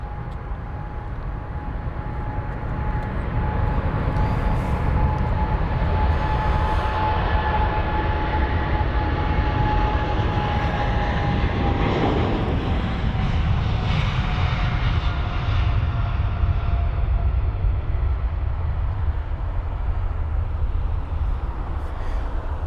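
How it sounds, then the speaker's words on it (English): An Air Canada Boeing 777-300ER jet departs London Heathrow for Toronto, a long, loud, continuous engine roar building then slowly fading as it climbs away, with no talking. "And Air Canada up next for departure. That's the 777 300ER heading to Toronto."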